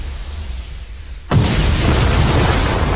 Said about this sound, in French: ça commence par une explosion